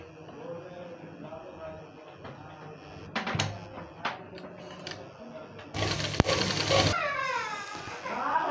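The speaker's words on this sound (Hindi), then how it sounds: "अब इस तरह करके हम सिलाई लगाएंगे।" A sewing machine stitches round-cut umbrella fabric in short bursts, with a louder whirring run near the end, over low room noise and a few knocks.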